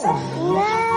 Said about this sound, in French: C'est un chat qui est un petit peu aigri